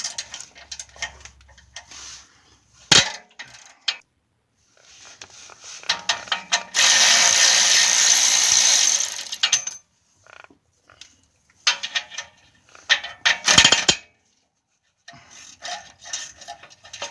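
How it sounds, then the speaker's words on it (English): A ratchet wrench works exhaust bolts loose while a DNA exhaust system is being installed, giving close clicking bursts and a long sustained grinding-rasping stretch in the middle, then more intermittent clicks. "And break these bolts loose."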